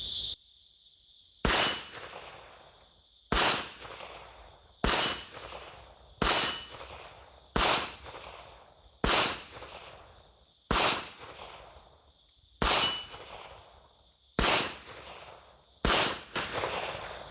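Kel-Tec PMR 30 pistol firing Winchester Super X rounds at steel targets, ten sharp shots spaced about every one and a half seconds, each followed by a ringing metallic clang from the steel plate.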